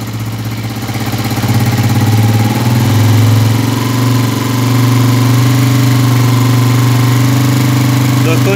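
A Honda CG125 motorcycle engine with a Euro 2 petrol setup runs close and steady, its idle climbing to a faster, fuller rev and holding there, with a constant low rumble throughout.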